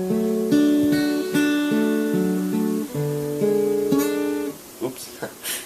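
Acoustic guitar playing a fingerpicked arpeggio passage from a song, clear sustained notes ringing in a steady picked pattern, then a few scratchy fumbled strums near the end, played alone without talk.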